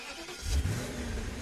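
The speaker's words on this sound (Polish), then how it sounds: "jak dźwięk silnika jest fajny, taki mruczy ten pojazd" Car engine in the video game Auto Sale Life, a short purring rev that swells quickly then settles into a steady low hum, fairly quiet and alone.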